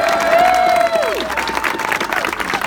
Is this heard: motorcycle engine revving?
no